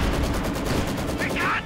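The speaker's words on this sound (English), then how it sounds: "Snipers continuing to lay down killer shots" Rapid gunfire from a Company of Heroes 2 battle, a dense rattling volley of shots under a commentator's voice, with a sharper burst near the end.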